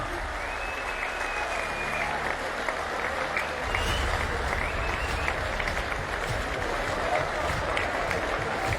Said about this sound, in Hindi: एक बार सभी कलाकार भाइयों के लिए जोरदार तालियां बजा दीजिए